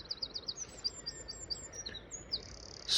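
A blue tit calls in the open around Ventnor Bay on the Isle of Wight, a run of thin high chirps repeated in quick succession, fairly faint against a soft outdoor background.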